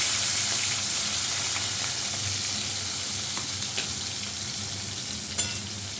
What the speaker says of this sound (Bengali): এখন কাঁচা লঙ্কা, কালো জিরা ফোড়ন দিয়ে দিলাম, টমেটো দিয়ে দিলাম